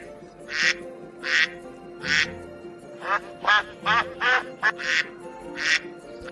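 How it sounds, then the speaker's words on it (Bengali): A domestic duck quacks repeatedly in bursts, some single calls and some quick rapid runs, clear and fairly close over a steady low background hum. "এটা পাতি হাঁসের ডাক ইংরেজিতে একে কোয়াক বলে"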